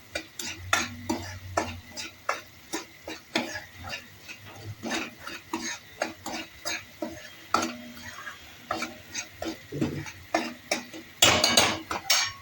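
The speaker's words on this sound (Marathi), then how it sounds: "परत व्यवस्थित परतून घ्यायचं." Onions for usal are sautéed and turned in a pan, with a spatula scraping and tapping rhythmically against the metal and a soft sizzle underneath, steady and close for several seconds.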